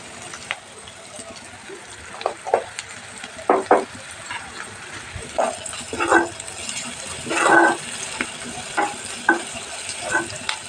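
Onions fry with salt in a pan for a bean (chikkudukaya) fry, a light sizzle under intermittent stirring clatters and scrapes at close range, with a few faint background sounds.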